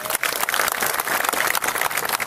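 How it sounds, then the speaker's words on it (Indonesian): An indoor crowd at a gathering claps all together, a dense burst of applause that stays loud and steady the whole time. "Tepuk tangan untuk mereka."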